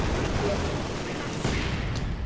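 Anti-tank gun and machine gun fire in a war strategy video game, a dense rumbling barrage with bursts of gunfire throughout, loud and continuous, with a voice talking over it.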